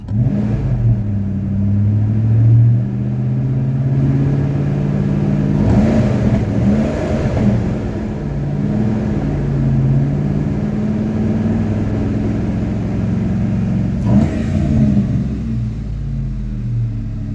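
A Ford F-150 pickup truck engine idling loudly after a high-amp alternator install, with a couple of brief revs swelling up, constant low rumble throughout, close by.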